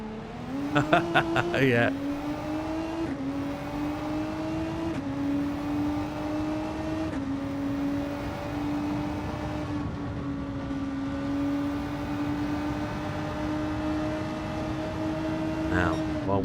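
A race car engine droning steadily on track in a GR3 league racing game, one long sustained tone with brief shifts in pitch, under someone talking.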